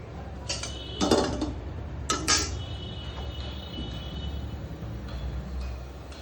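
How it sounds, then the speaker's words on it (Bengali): A metal wok clanks onto a stove in a kitchen before frying kachki fish with onion, giving a couple of sharp clinks followed by quieter rattles against a low background hum. "আগে কড়াই বসালাম"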